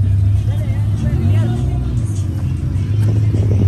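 A K-Series-engined car idles and revs steadily nearby, its low engine drone continuous throughout, with people talking over it at a drag race between sisters using nitrous-equipped cars.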